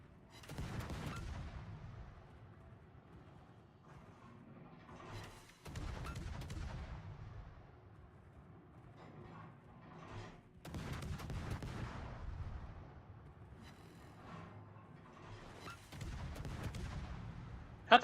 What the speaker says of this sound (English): How come my guns are shooting way over the coastal gun when I'm lined right up on it?